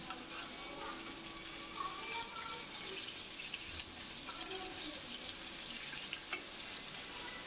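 Fish sizzles steadily in hot oil in a pan as the pieces are turned and browned, forming a constant hiss with soft crackles and a few clinks, at a moderate level with no talk.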